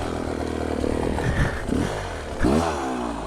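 KTM enduro motorcycle on a wet morning, engine revving and labouring as it climbs over logs, close by with rising and falling throttle bursts and some clatter.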